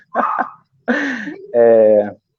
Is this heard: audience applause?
no